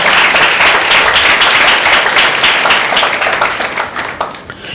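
A church congregation breaks into loud, sustained applause after a call to praise the Lord, a dense wash of many hands clapping that slowly thins toward the end.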